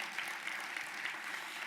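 A luncheon audience at a scholarship fundraiser in Cleveland applauds, a steady wash of many hands clapping heard faint and distant, with no voices over it.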